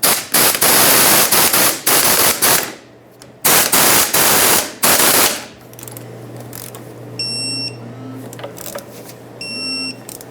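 A ratchet with a 15mm socket tightens the inner tie rod bolts on a 1999-2007 Ford F-350, loud rapid clicking bursts in several runs, then quieter clinks and a faint background hum.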